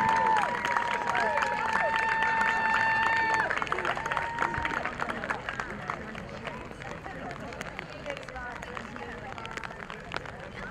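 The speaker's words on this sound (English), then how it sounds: "Let's give a big round of applause for our 2014 Upper St. Clair High School Senior Lacrosse players and parents" A crowd at a 2014 Upper St. Clair High School boys lacrosse game applauds and cheers for senior players and their parents, a sustained wash of clapping and voices that slowly fades, with an announcer's voice over it at the start.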